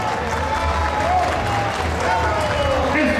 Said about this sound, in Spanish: Ahí, un aplausito para don José Urbano